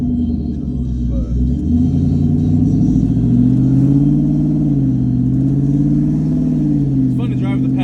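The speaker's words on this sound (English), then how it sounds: "hear the turbos make their noise" A twin-turbo shop truck engine rumbles and climbs in pitch as it accelerates, turbos sounding, its deep drone rising and falling steadily, with a faint voice near the end.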